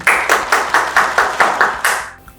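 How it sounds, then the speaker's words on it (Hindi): An audience claps in unison to welcome a bishop onto a Christian television programme, making about eight loud, evenly spaced rhythmic bursts before the claps stop abruptly. "अपनी तालियों में खुशामदीद कहते हैं"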